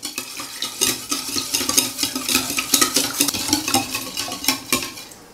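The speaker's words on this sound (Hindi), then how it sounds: "अब हम इन तमाम चीज़ों को विस्क की मदद से अच्छे से मिक्स कर लेंगे" A whisk beats milk, oil and vanilla extract together in a bowl for Swiss roll batter, with quick rhythmic scraping and clinking strokes repeating steadily, close and moderately loud, with no talking.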